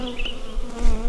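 Honey bees swarm and buzz loudly around an opened hive in a bee yard, a dense continuous drone with shifting pitch close to the listener, no talking.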